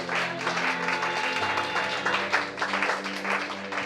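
Church congregation applauding together, a dense steady wash of clapping from many hands that holds evenly for a few seconds.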